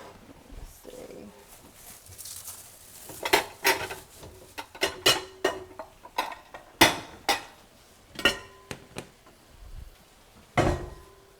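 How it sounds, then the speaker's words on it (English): Cooked whole grain pasta mixed in a bowl, a run of uneven clanks, clinks and scrapes of utensils against dishes, fairly close, with quiet background noise between hits. "add those into a bowl so that we can start to mix all this stuff"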